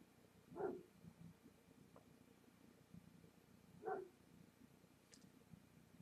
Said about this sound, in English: My dog's barking outside and it's distracting me.